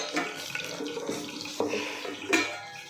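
Water splashes and drains from soaked kurdai crumbs in a kitchen, a close run of watery pours and trickles with a few louder splashy bursts, heard without talk.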